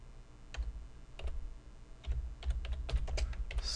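Typing on a computer keyboard close to a microphone, irregular bursts of sharp key clicks and thumps in quick clusters with short pauses between.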